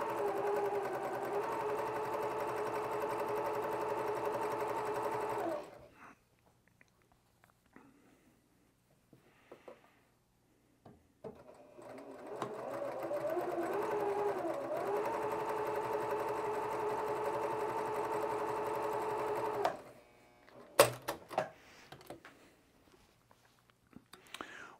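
A sewing machine runs in long bursts while chain piecing quilt block units. Two steady runs of rapid needle stitching are separated by quiet gaps filled with soft handling noises, followed by a few sharp clicks and short sounds at the end.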